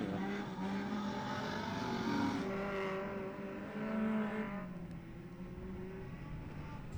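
Support-class race cars at Ellesmere Speedweek 2019 roar around the track, several engines rising and falling in pitch as they pass and jostle for position, a loud continuous blend of revving motors at moderate distance.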